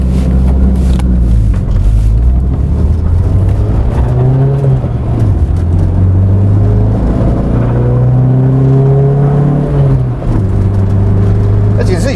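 Austin Maestro van with a 1.3 petrol engine accelerating on the road, its loud steady engine note climbing in pitch through the gears, dropping at each change and rising again, close and continuous throughout.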